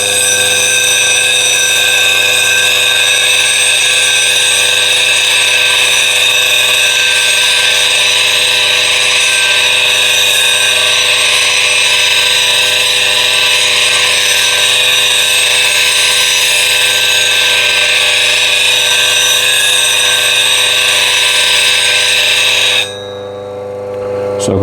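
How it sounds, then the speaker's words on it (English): A bench grinder fitted with an 80 grit CBN wheel sharpens a blade, giving a loud, steady, high whine with a constant tonal drone that holds for a long stretch before stopping abruptly near the end. "So let's go to 80 grit CBN wheel"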